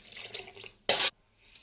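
A single short splash of tamarind water being poured into a pot of fish curry, brief and close, amid quiet kitchen background.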